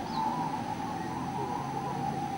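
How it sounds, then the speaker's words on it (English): Zebra doves (merbok) coo at a bird-singing contest in southern Thailand, a soft sustained cooing tone held steadily over faint background crowd murmur. "The dulcet tones of a first-class bird can apparently set hearts aflutter."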